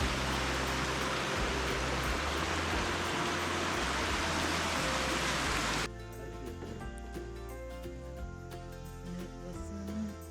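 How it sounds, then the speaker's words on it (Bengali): A small mountain stream flows below a hillside homestay near Chopta base camp, giving a steady, full rushing of water for about six seconds before it cuts to a quieter, thinner background. No one speaks. "নিচে দিয়ে ছোট্ট একটা ঝর্ণা বয়ে যাচ্ছে"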